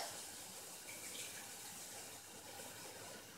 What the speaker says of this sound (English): pour the hot water into the chawan